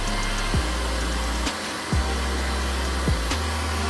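A heat gun or hair dryer blowing hot air onto a vinyl banner, a steady close whir that cuts off and restarts several times in short bursts, with no talking.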